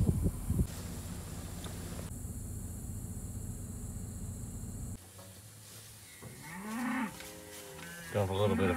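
Cattle on a farm are fed and called. Steady background noise comes first, then several drawn-out moos, moderately near and overlapping at times.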